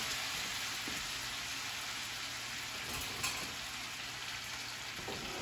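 Gnocchi sizzle and crackle in a frying pan as they are stirred and coated, a continuous close fry hiss with occasional soft scrapes and clicks of the utensil, no talking.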